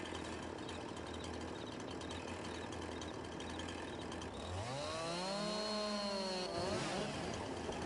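A chainsaw in Farming Simulator 22 cuts into a tree, its steady engine drone swelling into a louder, rising and falling whine partway through, then settling back, heard alone without talk.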